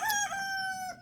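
A rooster crows once, a clear, loud, close cock-a-doodle-doo lasting about a second, with no voices over it.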